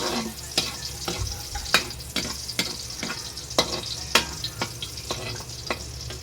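Garlic frying in a pan, with a crackling sizzle under sharp, regular scrapes and taps of a spatula stirring, close and clear, no voices.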